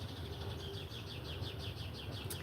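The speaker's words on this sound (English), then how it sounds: "You hear that bird?" A bird chirps outside in a steady repeated series of short high calls, fairly faint over a low background rumble, with a brief sharp click at the end.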